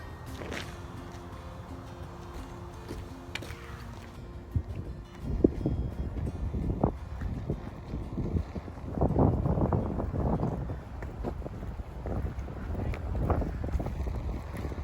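Steady wind gusts buffet the microphone outdoors by the Mississippi River, a continuous low roar with rising and falling surges and scattered knocks, no voices.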